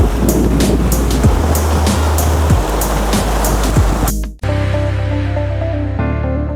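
Ocean waves break on a sandy beach with a loud, continuous surf wash, heard alone before the sound cuts abruptly to something else.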